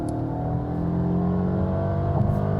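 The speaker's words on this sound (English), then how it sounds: "If we go to the sports mode, by the way, all-wheel drive system changes from 80-20 to 70-30, and let's accelerate" A Mercedes-Benz GLA250 four-cylinder engine in sports mode, droning and rising steadily as the SUV accelerates from 65 to 100, heard from inside the cabin with no talking.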